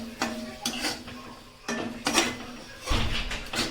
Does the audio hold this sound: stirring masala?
yes